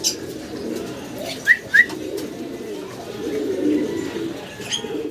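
Low, soft cooing from black German Modena pigeons rolls on steadily, with a couple of brief sharp chirps partway through.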